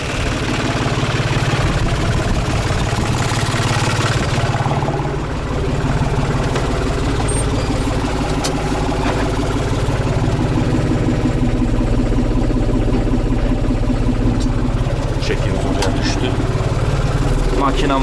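A loud, steady tractor engine idles throughout with a constant low rumble, while people talk over it in a field during fertilizer spreading.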